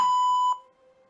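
A single electronic timer beep set during a hamstring stretching session, a clean bright tone that holds for about half a second, then drops to a faint fading ring.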